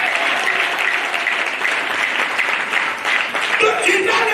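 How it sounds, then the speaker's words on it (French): Loud, dense applause from a church congregation giving praise to the Lord during a Sunday sermon, steady throughout with cheering voices mixed in and a brief dip near the end. "Donne une bonne acclamation au Seigneur"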